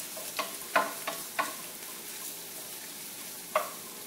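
Shrimp with jalapeno frying in a pan, a soft background sizzle broken by several sharp scraping stirs, quiet and close, no talking.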